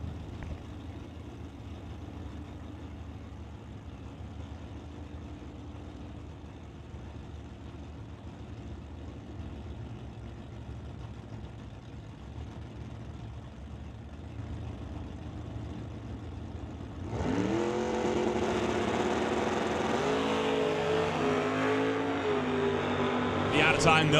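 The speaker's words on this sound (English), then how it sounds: "Stu Funk in the Stu's Plumbing Chevelle, racing Mark Bresinger's Out of Time Nova" Drag race cars, a Chevelle against a Nova at an NHRA Summit ET finals, with a distant engine drone under a track announcer's voice, then a sudden loud roar of revving engines launching and pulling away.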